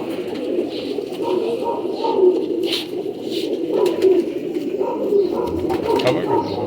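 A flock of old-bloodline pigeons coos in a steady, overlapping murmur of low throaty calls close by, with occasional louder coos rising above the rest.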